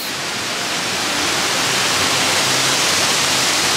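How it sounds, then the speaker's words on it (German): A waterfall at the Phantasialand theme park during winter gives a loud, continuous broadband rush of falling water, steady and close, with no voices. "Wir schauen uns noch hier den Wasserfall an."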